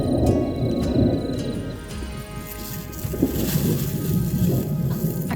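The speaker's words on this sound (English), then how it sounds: "A cracker of a thunderstorm came over the hill" A strong thunderstorm with hail rolls over Denison Campground near Jindabyne, bringing deep, sustained thunder rumbles under a steady hiss of falling precipitation, with a sharper crack around the middle.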